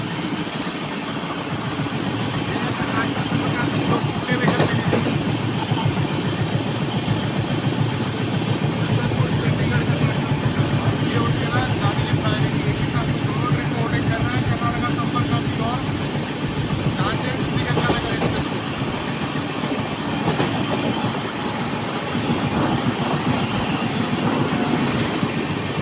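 Maharashtra Sampark Kranti Express running on rails as it overtakes two other trains, a steady loud rumble with faint clickety-clack throughout, and voices talking over the rolling noise.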